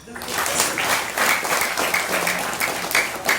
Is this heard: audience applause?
yes